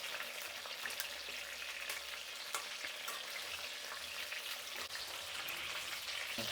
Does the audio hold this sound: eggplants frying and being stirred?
yes